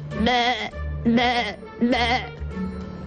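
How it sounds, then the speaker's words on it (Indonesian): A goat bleats three times in wavering, quavering calls, loud and close, with short pauses between each. "Di sana ada kambing"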